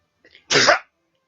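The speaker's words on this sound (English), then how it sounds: "I had to sneeze." One sharp sneeze follows a brief faint intake of breath, loud and close, then silence.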